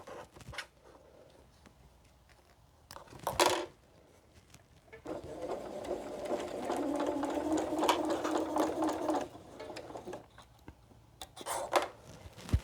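A sewing machine stitches a quilted Santa cookie rug with a Christmas star design: two short bursts of stitching, then a steady four-second run, then another quick burst, all fairly close with no talking.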